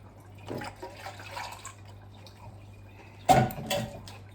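Water swished around inside a tin can to rinse out leftover pasta sauce, a few soft sloshing bursts with a louder splash near the end over a low steady hum.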